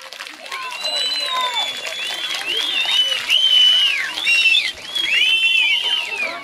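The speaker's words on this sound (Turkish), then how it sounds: "anne babalarınız için, hocalarınız için de büyük bir alkış istiyoruz." An audience of young people at a religious program in Bingöl applauds. The steady wash of clapping runs throughout, and high whoops and cheers rise repeatedly over it.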